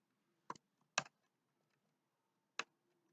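A few separate keystrokes tap on a computer keyboard while a Java program is being written, close and fairly quiet, two quick clicks then a pause before a final one.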